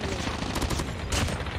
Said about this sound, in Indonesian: Ada tembak-tembakan di sini rupanya.